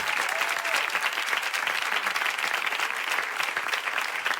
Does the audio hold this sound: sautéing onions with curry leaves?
no